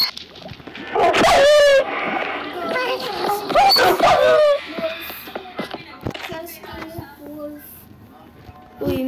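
A dog barks and whimpers in a loud, close burst of yelps early on, then quieter whines and scattered sounds, with people talking throughout.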